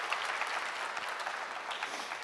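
An audience at a Marathi Language Pride Day event claps after a poem recitation, a steady moderate patter of many hands, fairly soft and without cheering.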